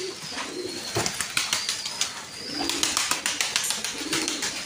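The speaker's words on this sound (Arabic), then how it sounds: "هذا حمام عراقي، هذا حمام رز قديم عراقي" Old Iraqi pigeons coo in a loft, with soft low throaty coos recurring under a busy layer of wing flaps and scuffling nearby.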